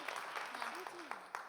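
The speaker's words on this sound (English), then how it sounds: "Round of applause." Light audience applause at a live student presentation event, a handful of scattered claps, faint and somewhat distant, with a voice speaking over them.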